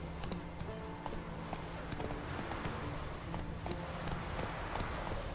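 Horse hooves clip-clop steadily in The Witcher 3 video game, a continuous galloping rhythm at moderate distance over a dense ambient bed, with a faint voice now and then.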